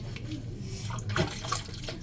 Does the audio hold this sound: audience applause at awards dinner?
no